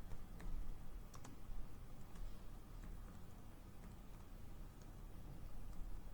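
Typing on a computer keyboard while writing a simple Python print command in IDLE, with scattered key clicks over a steady low hum, fairly quiet and without speech.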